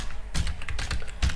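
Quick, close clicks come from a computer keyboard as someone types in short irregular bursts.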